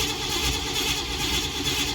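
The TriPower engine of a 1957 Pontiac Star Chief convertible churns steadily as it is started, making a close, continuous rumble with a faint rhythmic pulse.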